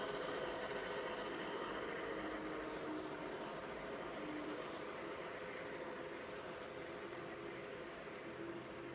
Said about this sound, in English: we have a double-headed freight train pulling